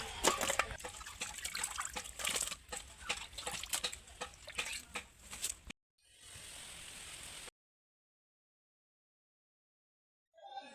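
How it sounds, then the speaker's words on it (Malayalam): Raw chicken being washed in water makes rapid splashing, sloshing and trickling sounds nearby. A fainter pour follows, then the sound cuts to silence. "നമ്മുടെ ചിക്കനൊക്കെ ഒരു കുറേ പ്രാവശ്യം കഴുകി നന്നായിട്ട് വൃത്തിയാക്കി എടുക്കാം"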